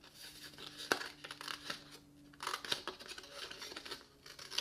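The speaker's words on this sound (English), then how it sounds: "we're just going to cut along here" Scissors cutting along a paper purse flap on a punch board gift bag, a few crisp snips and paper rustles at close range, uneven in rhythm, with no talking.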